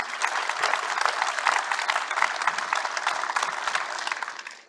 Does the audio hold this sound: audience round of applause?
yes